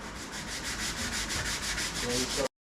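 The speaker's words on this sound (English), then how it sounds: "So now I'm just going to give it a jolly good old sanding" A wooden longbow is sanded by hand with sandpaper in quick, even back-and-forth strokes, about four per second, close and steady until it stops abruptly.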